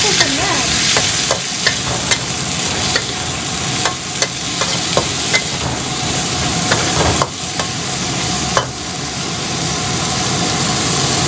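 Vegetables stir-fried in a pan for a pork steak dish: loud, continuous sizzling with regular scraping and clanking of a spatula against the pan, over a low steady burner rumble.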